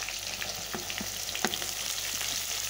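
Onion sizzles steadily in hot oil with kasuri methi in a home kitchen, a continuous close frying crackle with a few light stirring scrapes.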